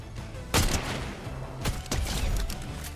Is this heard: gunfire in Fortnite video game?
yes